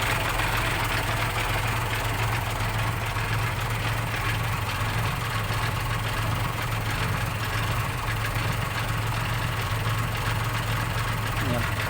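A Sany SY205C excavator engine runs steadily at a loud, constant level with a deep low rumble, loading sand into a Fuso truck.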